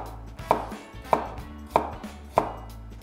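Four evenly spaced knife chops through carrot on a cutting board, each a crisp thud about half a second apart, close and clear with no talk.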